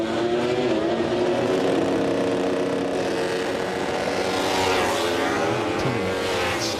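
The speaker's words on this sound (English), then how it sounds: "powers the V4 Yamaha away from the starting grid" A Yamaha V4 MotoGP race bike powering away from the starting grid, its engine a loud, continuous high-pitched roar that rises and falls through the gears, blended with other racing machines, with no voices over it.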